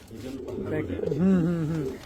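A pigeon coos nearby in low, throaty, rolling warbles, loud and close, mixed with a person speaking in the background.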